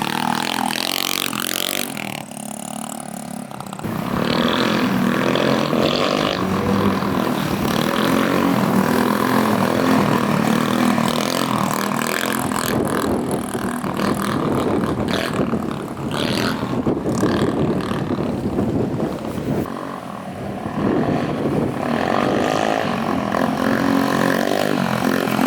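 A TaoTao GY6 150cc scooter engine revs loud and close through a wheelie, its buzzing drone swelling and holding high over strong wind noise, with a brief lull near the start and another dip around twenty seconds.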